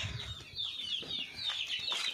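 Hens kept for sale cluck in a yard at feeding time, with a series of moderate, overlapping clucks and calls close by and no speech.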